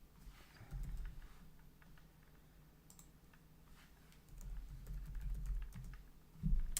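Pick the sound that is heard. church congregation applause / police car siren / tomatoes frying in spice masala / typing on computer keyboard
typing on computer keyboard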